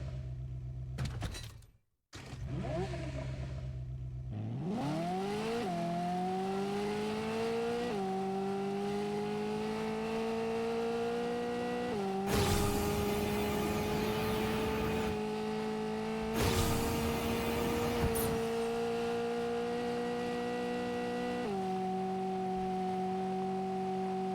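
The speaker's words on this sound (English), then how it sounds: "let's go ahead and go with the Ferrari F40 and hear its sound" Ferrari F40 engine idling and revving, a steady close mechanical drone with pitch rising through several stepped blips and throttle surges, plus a brief sharp cutout near the start; no talking.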